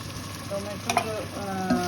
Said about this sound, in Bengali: টমেটো পিউরি দিয়ে দিলাম